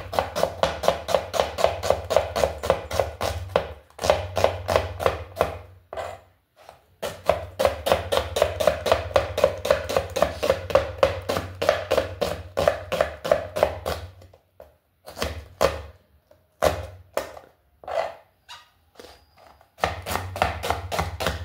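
Sharp knife slicing onions on a board in a home kitchen, a steady run of quick close chopping taps broken by a few short pauses, with no talking.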